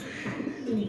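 A male Andalusian Mundian pigeon coos in a soft, low, rolling burst, close by and fairly quiet, with faint background noise.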